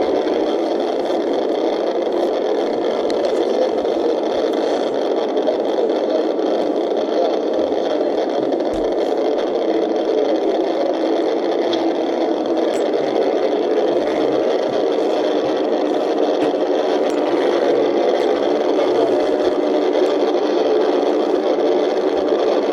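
A Georgia State Patrol car's engine roars hard and steady as the trooper races toward a pursuit, a loud continuous drone heard from inside the cruiser with wind and road rush, no voices over it.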